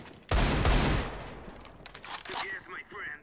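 A sniper rifle in a video game fires a loud, close burst that rings out and trails off over about a second, followed by someone talking.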